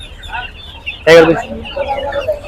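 A hybrid rooster at the crowded Tongi bird market gives one short, loud squawking cluck close by, over steady crowd chatter and background noise.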